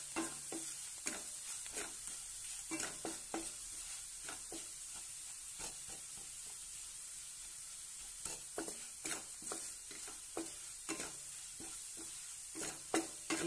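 Garlic chili powder fries in a pan, giving a steady close sizzle broken by repeated scraping stirs at an uneven rhythm, with no talking.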